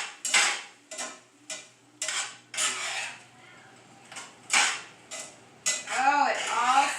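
Lasagna filling is stirred in a pan, giving a series of clanking, scraping utensil strokes against metal with short pauses between them, close up, followed by a brief creaky squeak near the end.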